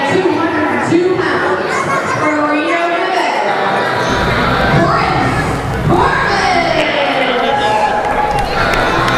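Wrestling crowd at an NWA championship event cheers and applauds as two wrestlers make their ring entrance, a dense, steady roar of voices with shouts and clapping across the whole stretch, with a commentator talking over it.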